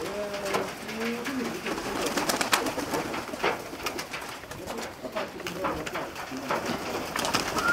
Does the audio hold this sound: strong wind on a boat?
no